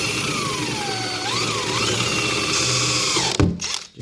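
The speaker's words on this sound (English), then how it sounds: "you can use that center bit of your hole saw just to get you started" A power drill whines steadily as the center bit of a hole saw bores a start hole, with the motor pitch dipping and rising under load before the drilling stops abruptly near the end.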